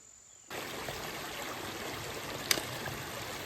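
Creek water flows at a trail water crossing on Chimney Top Creek in Red River Gorge. A steady, close rushing rises out of near silence and runs on evenly, with one brief sharp click partway through.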